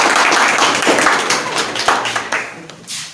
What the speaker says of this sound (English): So everyone, please clap for this presentation.